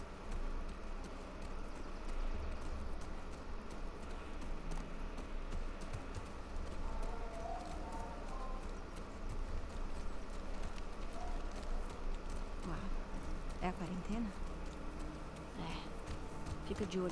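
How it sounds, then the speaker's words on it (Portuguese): Horse hooves clip-clop at a steady gait while riding in The Last of Us Part II, a continuous trotting rhythm mixed into outdoor game ambience with faint insect buzz, no one speaking. "Dá pra ouvir no cavalo, galera?"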